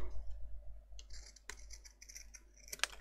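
Scissors snip through paper for a nautical mini album, a few crisp close cuts with small clicks and scrapes, the last snip sharpest, in a quiet room.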